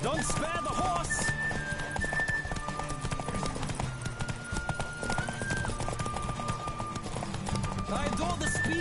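Galloping horse in The Witcher 3 game, rapid steady hoofbeats blended into busy music and ambient game sound, with some voice talking over it.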